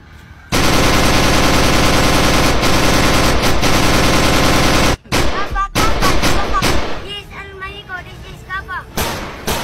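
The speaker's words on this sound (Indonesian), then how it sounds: "Aksi baku tembak antara petugas kepolisian dan kelompok perampok berlangsung 6 jam." Gunfire from a police shootout with armed robbers, heard as a dense, sustained roar of rapid shots, then scattered bursts and single cracks mixed with voices and commotion.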